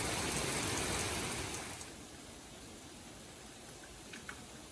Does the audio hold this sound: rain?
yes